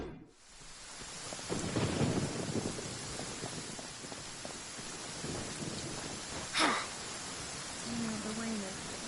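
Rain falling steadily in the Genshin Impact video game, with a soft wash of drops and a low thunder rumble early on. Brief voice-like sounds and small tonal cues surface over the continuous downpour.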